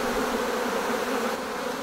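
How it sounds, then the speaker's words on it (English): Honey bees buzz at an opened beehive during a first-year beekeeper's honey harvest, a dense, steady, close-up drone with no pauses and no voices. "Holy moly. That's a lot of bees."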